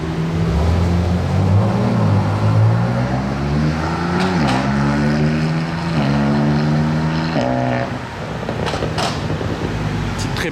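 A modified BMW M2 passes with a loud, droning engine note that rises through repeated upshifts, heard roadside among other tuned supercars.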